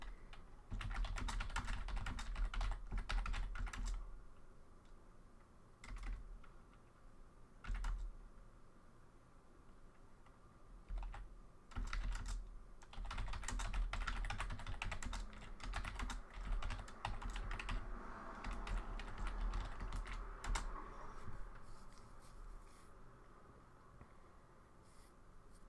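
Steady typing on a computer keyboard, close and fairly soft, in bursts of rapid key clicks broken by short pauses, with no talking.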